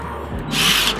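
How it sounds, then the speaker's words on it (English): Electric drill gun with a bit fitted, used while building a DIY roller skate slide rail; a short, loud whirring burst kicks in halfway through and runs steadily to the end, with no voices. "we're gonna go back to our drill gun. We're gonna put our drill bit back in."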